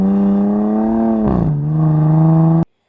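Exhaust note of a Dodge Charger Six-Pack: a loud, steady drone that holds its pitch, dips slightly midway, then cuts off abruptly. No one speaks over it.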